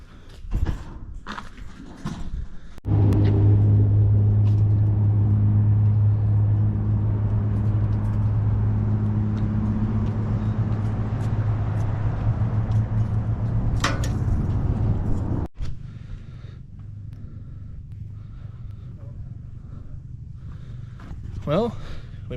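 An old Chevy parts truck engine drones loudly and steadily while driving home, then cuts off, leaving quieter background with a person talking briefly.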